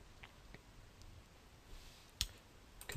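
A mouse click in 3ds Max while setting up a new empty scene: one sharp click stands out over quiet room noise, with a few fainter ticks scattered around it.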